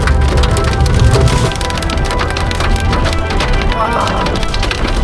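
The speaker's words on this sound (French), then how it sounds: "Pour l'instant on est sur des petits grêlons, ça va." Small hailstones clatter densely and rapidly on a surface nearby during a supercell storm in the Loire, France, a loud continuous rattling pelting with no pause.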